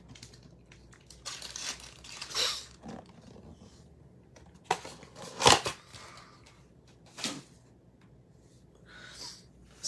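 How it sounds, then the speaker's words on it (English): Football trading cards being shuffled by hand produce soft crinkling and riffling bursts, several scattered short rustles, one sharper louder flurry midway, with no talk. "I'll shuffle them up."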